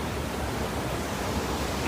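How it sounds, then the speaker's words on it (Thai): Floodwater rushes through a breached embankment onto farmland at Ban Samrong in Maha Sarakham, a steady, broad roar of gushing water that stays even throughout and sounds fairly distant, with no voices. "คือตอนนี้น้ำมันทะลักไปท่วม พื้นที่ ให้หน้านะครับ"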